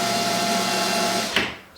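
A power drill spins a self-centering bit to start pilot holes through a clip during the build of a PT11 boat, giving a steady whirring hum that rises briefly near the end before winding down.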